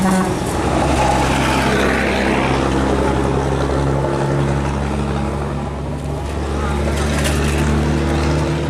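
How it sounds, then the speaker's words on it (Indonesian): Several engines of a custom-built extreme Vespa scooter idle together, a loud, steady low drone with a continuous rumble throughout, and voices talk faintly in the background. "Ini mesin yang aktif ada 3 guys."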